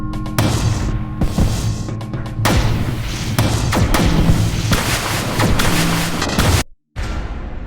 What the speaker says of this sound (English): It shoots the mortar shots at presumably random patterns.